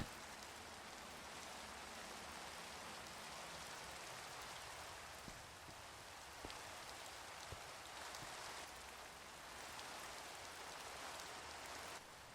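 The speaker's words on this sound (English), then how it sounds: "Oh, it started raining, and I want to see the rain from inside." Rain falls in the Minecraft video game as a steady, soft hiss of droplets that stays even and unbroken, with no voices over it.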